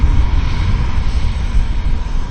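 A classic Learjet business jet's engines roar steadily and loudly at an airport, a dense, even rumble with no break and no voices.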